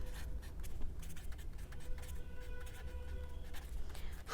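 Faint scratching strokes of writing notes on a board, short irregular scrapes repeating over quiet room tone.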